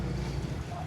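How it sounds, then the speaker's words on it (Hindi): Wind gusting outdoors, a brief steady low rush with microphone buffeting, fairly quiet and without speech. "हवा चल रही है ना"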